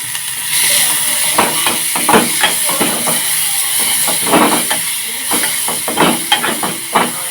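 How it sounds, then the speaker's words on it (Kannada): Chopped onion and tomato tempered with spices in hot oil, a steady sizzling hiss running throughout with scattered crackles and pops, while a voice talks over it. "ಇವಾಗ ಇದನ್ನು ಒಗ್ಗರಣೆ ಹಾಕ್ತೀನಿ"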